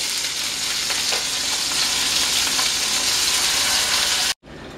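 Meat for braciole browns in a hot pan with a loud, steady sizzle that fills the whole stretch without talk, then stops abruptly just before the end.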